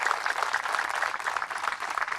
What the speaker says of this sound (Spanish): Fuertes aplausos al Señor Jesús por su amor y su misericordia.